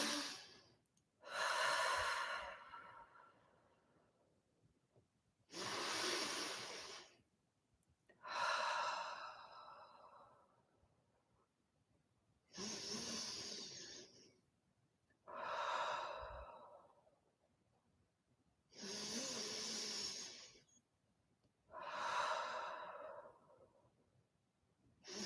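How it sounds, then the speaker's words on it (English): Slow, deep meditation breaths repeat steadily, about seven long airy inhales and exhales spaced a few seconds apart, close and breathy with quiet gaps between. "So breathe in deeply."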